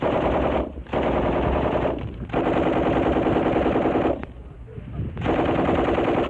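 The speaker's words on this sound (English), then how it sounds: "That's the way to fire a machine gun." A Marine Corps machine gun fires in long sustained bursts during a weapons demonstration, loud and close, with short gaps between bursts.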